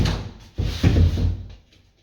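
A wooden IKEA-style cabinet door is lifted and set into position, giving a few close knocks and soft thuds of handling with faint rustling between them.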